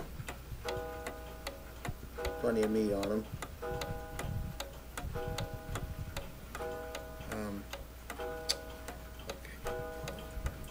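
A mantel clock ticks steadily and evenly close by, with someone talking briefly over the ticking.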